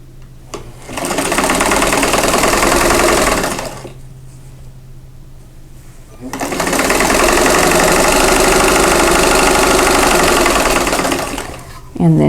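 A sewing machine stitches quilt squares a quarter inch from a drawn line to make half-square triangles, running loud and steady in two long bursts with a quieter hum between them and no talk.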